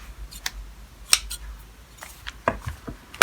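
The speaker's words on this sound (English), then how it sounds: "All of these threads can be cut off if you wish" Scissors make a run of small, crisp snips and clicks as they cut loose cotton threads from the edge of fabric, irregular and close by.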